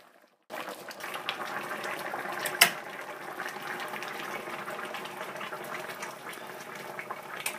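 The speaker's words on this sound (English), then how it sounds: "She's mixed a little water with some flour and is now pouring that mixture in with the boiling vegetable rabbit stock." Vegetable and rabbit stock boiling in a pot for a stew, a steady bubbling and simmering wash that runs throughout after a brief quiet start, with one sharp clink near the middle.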